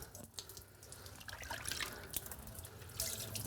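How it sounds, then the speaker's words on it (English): Water splashes and trickles into a part being rinsed of brake fluid during a 1956 Volkswagen Beetle oval-window convertible brake job, a soft, continuous running-water sound with light drips, no speech. "Just throw some water in here first."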